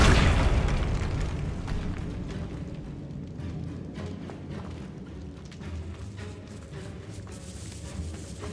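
Confringo blasting spell from Hogwarts Legacy bursting in a catacomb, one loud boom that rolls off into a long rumbling decay with scattered debris crackles.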